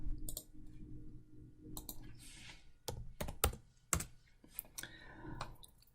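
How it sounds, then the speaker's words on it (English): Fingers type on a computer keyboard in a quiet room, irregular bursts of close, crisp key clicks with short pauses between them. "so we type all that information in"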